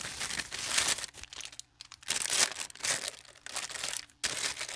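Crinkly plastic packaging on an overhead tripod delivery being snipped and torn with scissors, a series of close, sharp crackling bursts separated by short pauses.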